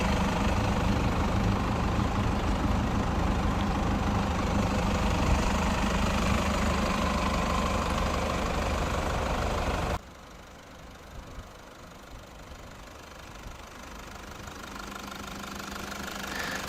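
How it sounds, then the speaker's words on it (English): A 2015 Toyota Land Cruiser Prado with a 3-liter inline-four 16-valve overhead-cam turbodiesel idles with a steady, loud, knocking diesel rumble, which drops abruptly to a much quieter idle partway through. "This car has inline 4, 16-valve, overhead cam, 3-liter, turbocharged diesel engine."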